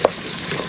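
A spoon turns rice with turmeric in a pot, a brief scraping stir over a soft sizzle heard close by.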